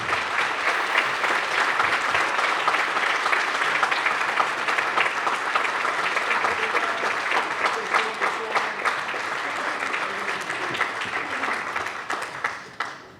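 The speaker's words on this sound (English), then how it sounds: "Let's give this group a huge round of applause for everything they've done." Audience at an annual CERT awards banquet gives sustained applause, dense clapping with a few sharper individual claps, tapering off near the end.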